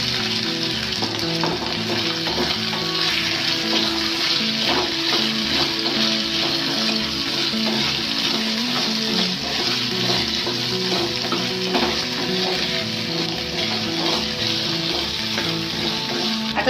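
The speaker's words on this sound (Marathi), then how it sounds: "बटाट्याची फोडी टाकते त्याच्यामध्ये." Potato pieces for batata bhaji frying in a pan, a loud, steady sizzle that runs unbroken throughout with faint stirring scrapes underneath and no talking.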